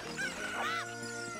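A cucco chicken clucks in The Legend of Zelda: Ocarina of Time, giving a squawky, warbling cluck that swoops up and down once over looping game music.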